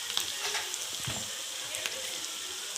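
Vegetables and green peas for pav bhaji fry in a pan with a steady, soft sizzle, close and fairly quiet, with occasional stirring scrapes and brief faint voice in the background.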